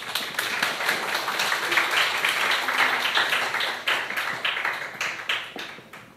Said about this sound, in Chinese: 是我们热烈掌声来欢迎他